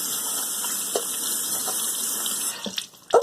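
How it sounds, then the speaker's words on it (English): Tap water runs steadily into a sink as soapy hands are rinsed, a continuous close splashing hiss that breaks up near the end with a few louder splashes and knocks. "Now you can turn the water back on and rinse all the soap off."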